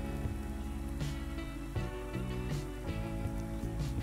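Rain falls in the video game Farming Simulator 19, a quiet, steady patter on surfaces that runs beneath tonal game music throughout.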